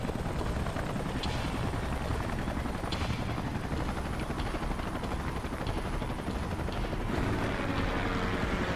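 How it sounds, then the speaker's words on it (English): Salvage helicopters arrive in a video game: a loud, steady rotor roar fills the scene without a break and swells slightly near the end, with no voices. "Let's call in the salvage choppers and get it out of here."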